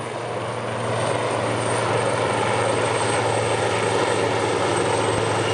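Military helicopters fly past during a naval parade and ceremony, a steady loud rotor and engine drone that swells slightly and then holds, with no voices.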